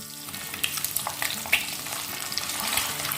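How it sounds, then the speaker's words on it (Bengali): Eggs fry in hot oil seasoned with turmeric, giving a continuous crackling sizzle with sharp pops and spatters, close and fairly loud, no speech. "ডিমগুলো ভাজা হয়ে গেছে, আর বেশি ভাজবো না।"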